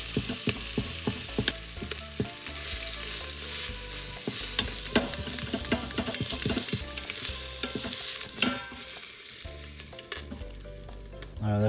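Opossum meat fries in a pan with a loud, crackling sizzle, dense popping, and frequent scraping strokes of a utensil against the pan bottom; no one speaks.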